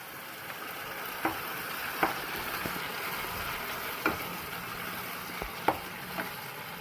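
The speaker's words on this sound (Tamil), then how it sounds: "தக்காளியையும் போட்டு வதக்கிட்டு இப்போ நல்லா வதங்கிட்டு அரைச்சி வச்ச விழுதை அதில் சேர்க்க போகிறோம்" Ground masala paste frying with sautéed tomatoes in a pan, a soft steady sizzle broken by occasional sharp pops and spoon knocks, fairly quiet with no talking.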